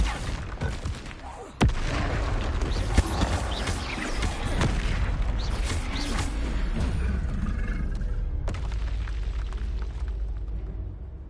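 Spell explosions in the video game Hogwarts Legacy, a sharp crack followed by a dense, sustained roar of blasts and rumbling booms that fills the scene before a second sharp burst.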